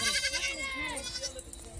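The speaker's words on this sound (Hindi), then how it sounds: "और ये बकरी है माशाल्लाह से" A Teddy goat in Dera Ghazi Khan bleats in quavering, repeated calls close to the listener, overlapping with someone talking.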